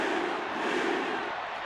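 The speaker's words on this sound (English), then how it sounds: "You can hear the crowd yeeting with Jey Uso from in here." Arena crowd in a wrestling video game roaring and chanting for Jey Uso, a dense continuous wall of voices heard from a distance, steady and loud.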